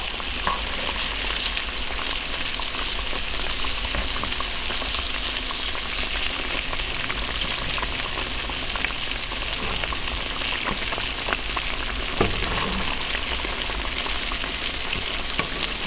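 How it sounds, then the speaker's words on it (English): Green tomatoes frying in a pan for a BLT, a loud dense continuous crackling sizzle holding steady throughout, close, with an occasional faint tap and no talk. "That's my green tomatoes working. We can give them a little flip."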